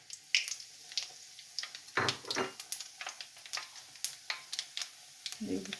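Five or six dried chillies and panch phoron crackling in hot mustard oil in a pan, with quick close pops and spits in an uneven rhythm, fairly faint, without talking.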